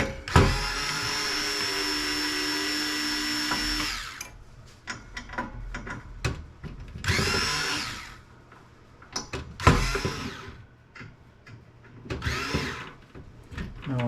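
Electric pistol-grip screwdriver backing screws out of a Denon receiver, a long steady motor whine followed by several shorter bursts of spinning with clicks and handling noises between them.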